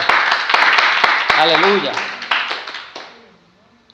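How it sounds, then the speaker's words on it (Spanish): A church congregation claps in praise during a sermon, sharp overlapping claps under a voice calling out, fading away as the clapping dies down. "Dale un aplauso al Señor."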